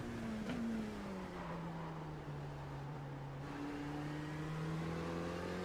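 Race car engines in the iRacing sim at Daytona in an IMSA race: a continuous, fairly quiet engine drone with a slowly shifting pitch, holding steady with no break.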